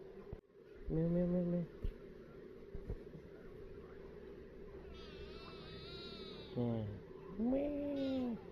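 A cat gives several drawn-out meows, spaced apart and close by, with a steady background hum and no talking over them.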